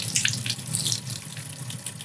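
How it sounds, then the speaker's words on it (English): Warm water runs steadily from a tap over a freshly printed ABS resin part being rinsed, a continuous near hiss and splash lasting the whole moment with no talking. "And that's the warm water."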